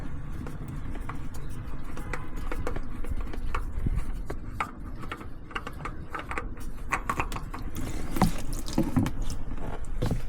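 Hot engine oil drains from a 2018 Nissan Murano during an oil change, a steady trickle with scattered drips and small clinks, fairly close and continuous with no talk.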